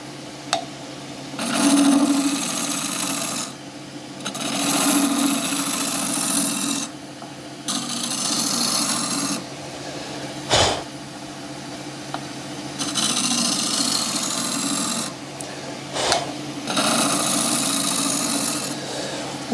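Wooden shaving brush handle turning on a lathe, a steady scraping rasp of the tool cutting in several passes with short pauses between, close and fairly loud, no talking.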